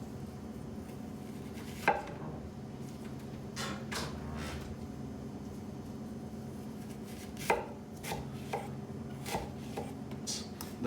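Knife dicing a chunk of apple on a cutting board for a dessert, a few sharp isolated chops spaced out over steady low kitchen background hum.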